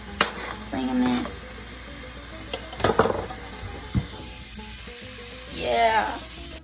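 Onions tipped into a pan of hot oil for tomato sauce sizzle and crackle, with stirring scrapes and a few knocks of a utensil against the pan, plus a brief burst of louder frying near the end.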